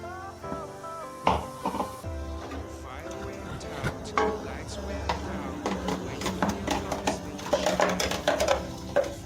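Ground masala for chicken biryani going into a pot and stirred, with metal spoon scrapes and clinks against the pan and a light sizzle, while a person talks.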